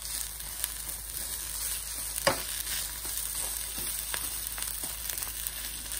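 Coriander being stirred into a pan of spiced potato curry for masala dosa filling, a steady soft sizzle of frying with occasional scraping stirs and a louder clack near the middle.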